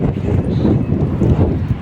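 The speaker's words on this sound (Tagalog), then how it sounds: "Medyo mahangin po kasi." Strong wind gusting outdoors on a windy day while fishing, a loud, close, continuous low rumbling roar buffeting the microphone throughout, with no talking.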